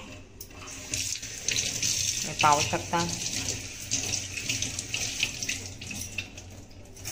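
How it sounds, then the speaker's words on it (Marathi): Water splashes and trickles steadily as dark liquid is drained out of grated bottle gourd, heard close up like a running stream into a sink, with a person talking briefly over it. "आता हे इकडे पाणी काढलं आपण, तर हे काळसर पाणी असं निघतच असतं"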